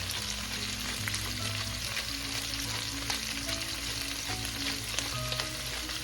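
Pork and aromatics sautéing in a pan for Filipino pork sinigang, a steady broadband sizzle with occasional stirring scrapes, fairly close and even throughout, with no talking.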